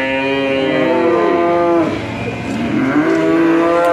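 Simmental cattle moo loudly and close at hand: a long, deep, resonant low followed by a second rising call.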